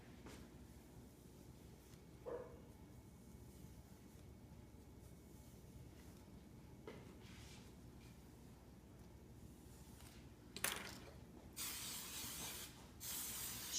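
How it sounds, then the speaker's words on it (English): A can of Tresemme hairspray is sprayed onto hair while a competition curly ponytail is styled, giving a couple of short, soft hisses and then a longer, closer burst near the end in a quiet room. "so I just stick a little more hairspray in"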